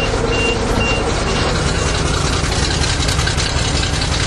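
A 427 dump truck engine running rich, idling loud and steady with a heavy low rumble, a close, constant mechanical drone and a faint beeping tone mixed in.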